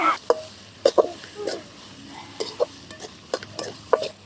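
Tomato sautéing in a pan with salt, with a low sizzle under a run of distinct scraping, clattering stirs of a utensil against the pan, close and intermittent, with no talking.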